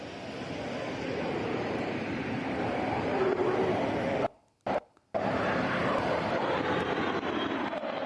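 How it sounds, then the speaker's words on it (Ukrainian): Military fighter jets pass over an air base with a loud, sustained broadband roar that fills the scene, briefly cut out for under a second before resuming at full strength. "А ще кілька винищувачів щойно промайнули над головами е, президентів."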